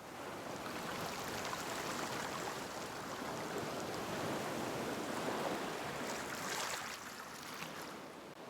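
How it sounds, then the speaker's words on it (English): Ocean waves wash onto a sandy beach in the video game Nightingale, a continuous soft surf hiss with gentle swells and one brighter crest near the end. "we have different sets of wave audio for sandy beaches and rocky shores."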